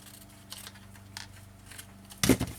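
Scissors cut through scrapbooking paper in a short, close crisp snip after faint handling rustles, with no voice present.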